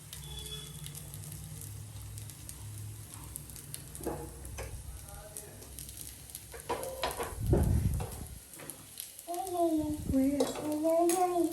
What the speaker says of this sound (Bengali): এবার এটাকে একটু ফ্রাই করতে হবে, একটু লাল লাল হওয়া পর্যন্ত।